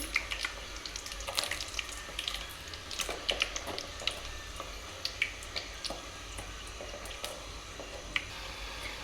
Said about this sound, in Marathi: आपण आता पोळी तळून घेतलेली आहे